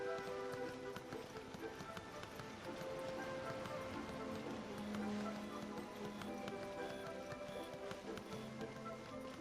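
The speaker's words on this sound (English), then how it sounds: "It sounds like a horse running." A character's running footsteps in the video game Genshin Impact sound like a galloping horse, a quick steady clip-clop rhythm over faint game music and ambience.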